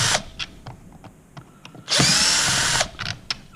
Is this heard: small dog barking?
no